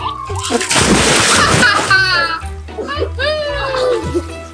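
People jump and splash into an ice-cold outdoor pool, with a burst of loud, churning water near the start followed by sloshing. Excited adults and children shout and talk over it throughout.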